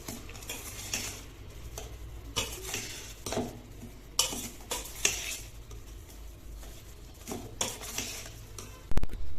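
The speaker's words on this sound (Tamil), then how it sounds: "இதுல நான் 50 கிராம் மசாலா போட்டு நல்லா மிக்ஸ் பண்ணிட்டேன்." Soya chunks (meal maker) are mixed with a packet of masala in a metal bowl, with steady scraping, stirring and clinking of a spoon against the dish, fairly close and without talk.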